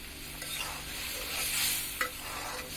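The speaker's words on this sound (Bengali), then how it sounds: "ভালোভাবে আমরা নেড়ে নিব।" Fried fish being stirred into a curry in a pan for a prawn bhuna, a steady close sizzle with scraping stir strokes and one sharp knock near the end, no voices.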